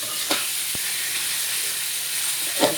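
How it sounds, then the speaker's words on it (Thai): Minced pork stir-frying in a pan gives a steady, close hiss of sizzling, with a couple of brief stirring scrapes and one sharp tap of a utensil. "ไปมาไปคนมาเดี๋ยวก็สุกครับ"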